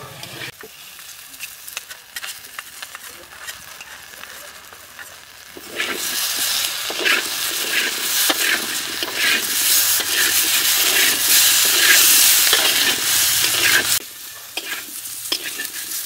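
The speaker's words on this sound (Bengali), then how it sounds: "মেটে আলুটা প্রায় ভাজা হয়ে গেছে, এখন আদা আর লঙ্কা বাটাটা দিয়ে দেবো।" Pieces of yam are stirred and fried in a pan after ginger and chili paste go in. A steady, loud sizzle with repeated scraping strokes swells midway and continues close up, with no talking.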